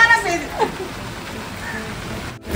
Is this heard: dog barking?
no